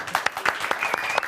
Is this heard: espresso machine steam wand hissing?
no